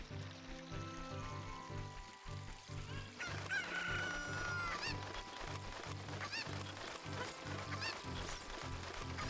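A rooster crows in Zelda Ocarina of Time, one clear cock-a-doodle-doo over looping game music with a steady rhythmic beat.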